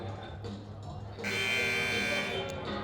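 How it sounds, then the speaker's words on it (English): A loud, sustained electronic buzzer sounds for a timeout in a girls' varsity high school basketball game against the Holliston Panthers. It starts abruptly partway through and holds steady for over a second above gym crowd noise and commentary. "And we have our first buzzer getting ready to resume action here."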